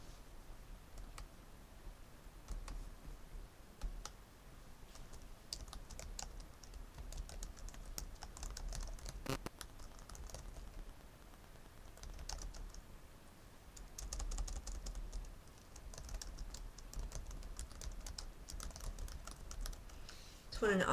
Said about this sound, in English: I'll type in the answer in just a minute.